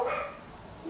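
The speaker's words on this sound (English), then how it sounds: "or dogs should I say, because now the second one's barking too." A dog barks once at the start, a short close yelp that fades, followed by quiet room tone and a faint second bark near the end.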